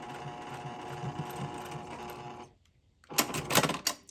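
A sewing machine stitching curved quilt pieces: a steady, close mechanical whir with rhythmic needle ticking that stops for a moment, then a louder burst of clattering machine noise after the pause.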